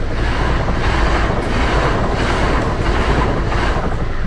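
A commuter passenger train passing on a railway track, a loud rumbling roar with rhythmic wheel clatter heard from nearby, roughened by wind noise on the microphone.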